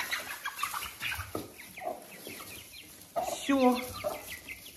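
A hen that has just been released after having her foot treated with iodine clucks close by in a few short bursts, with someone speaking briefly over the background bustle.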